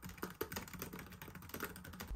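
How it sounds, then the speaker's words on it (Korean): Typing on the full-size backlit keyboard of a laptop, a steady run of quiet, close key clicks with a few firmer strokes, no talk. "키보드는 백라이트를 지원하고 풀사이즈 키보드입니다. 반발력도 높고 타건 소리는 일반적인 수준이었습니다."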